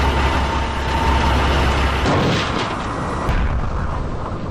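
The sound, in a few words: spaceship crashing into the end of the universe, sound effect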